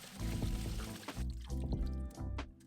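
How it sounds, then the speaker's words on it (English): Rice is rinsed in running water, with a steady pouring and splashing flow that continues throughout, loud and close. "Just rinse the rice until the water runs clear."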